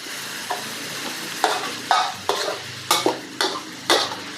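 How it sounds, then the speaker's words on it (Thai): Pork stir-fried in a pan for shrimp-paste pork with stink beans, a spatula scraping and clacking in a rhythmic run of sharp strokes over a soft sizzle, no talk. "ผัดไปเรื่อย ๆ นะ ไม่งั้น เดี๋ยวหมูจะไหม้เนาะ ค่อยๆผัดไปเรื่อย ๆ แบบนี้ก่อนเลยนะ"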